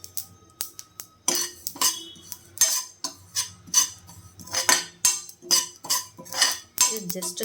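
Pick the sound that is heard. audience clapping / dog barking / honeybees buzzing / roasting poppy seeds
roasting poppy seeds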